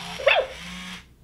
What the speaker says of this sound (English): Georgie is an interactive puppy that responds to your voice.